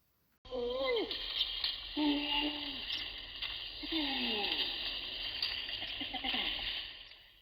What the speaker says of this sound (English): That is an orangutan